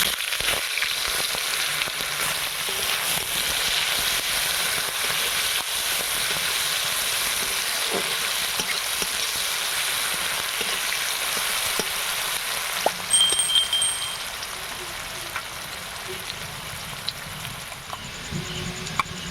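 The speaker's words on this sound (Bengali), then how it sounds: "এখানে পেঁয়াজটা ভাজা হয়ে গেছে।" Chopped onions frying in hot oil with black cumin, dried red chillies and a bay leaf, giving a continuous dense sizzle and hiss close by, with light stirring and no speech.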